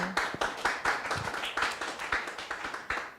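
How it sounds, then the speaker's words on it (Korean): Applause from a studio audience at a televised interview of Seoul education superintendent candidates, a moderate patter of individual claps, fairly close and fading out over a few seconds. "다시 한번 박수를 좀 부탁드리겠습니다"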